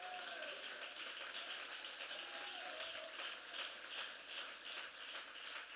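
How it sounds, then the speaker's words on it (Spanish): A church congregation claps during a sermon, a fairly faint, continuous patter of many hands with a thin tone drifting in the background and no clear speech over it. "Apláudale a Él porque usted tiene sus manos libres, hermano."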